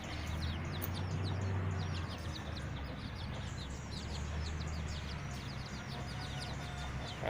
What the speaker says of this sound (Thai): มีเสียงไก่ด้วยฮะ